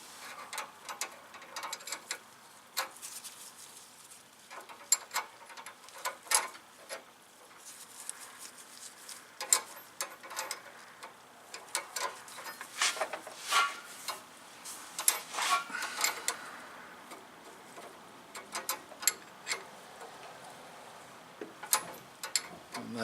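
Small metal ticks and clicks of a wrench working brake line fittings while rusty brake lines are replaced, scattered irregularly and close-up over about twenty seconds, with no talking.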